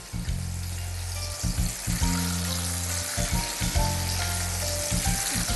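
Meat frying in moderately hot oil for Aleppo-style cherry kebab sizzles continuously nearby, beneath a repeating low mechanical hum that cuts in and out in regular bursts.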